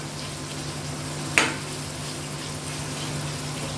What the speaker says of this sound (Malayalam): നമ്മുടെ സോയ ഇട്ട് കൊടുക്കുന്നുണ്ട് ഇനി ഈ എണ്ണയിലോട്ടൊക്കെ നന്നായിട്ടൊന്ന് പരത്തി കൊടുക്കാം